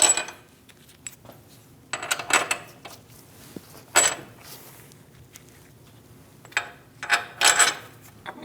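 Bolts being threaded by hand into the steering knuckle of a 2001-2006 Chevrolet Silverado 2500 HD: scattered small metallic clinks and rattles of bolts and washers, close and intermittent, in a quiet garage.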